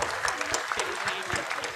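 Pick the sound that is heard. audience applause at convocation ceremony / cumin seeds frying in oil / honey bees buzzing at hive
audience applause at convocation ceremony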